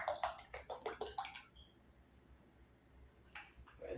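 Grapes being soaked and washed by hand in a bowl of water, with a burst of rapid splashing and sloshing, then a quiet pause before another short flurry of splashes near the end.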